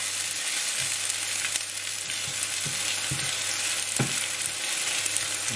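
Onions fry steadily in a pan on an induction hob set to 7, a loud even close-up sizzle with a faint low hum and occasional soft stirring taps, no one talking.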